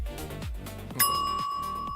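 A single bright bell strike rings out midway and decays slowly with a sustained metallic tone, after a stretch of faint background noise.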